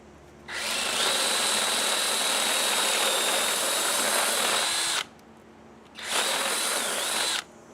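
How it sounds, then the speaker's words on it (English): A power drill bores through wood in a long continuous burst, pauses briefly, then runs again in a shorter burst; close and loud, no voices. "And now we're going to drill from this side."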